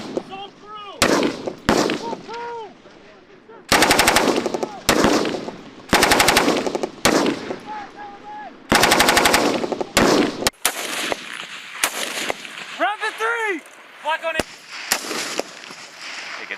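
U.S. Army live-fire exercise on a range in South Korea: loud machine guns fire in sharp bursts and rapid rattling volleys, with gaps between them and single shots, while soldiers shout and talk between bursts.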